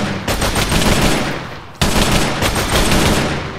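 Rapid video-game gunfire rattles loud and close in two sustained automatic bursts, split by a brief gap near the middle.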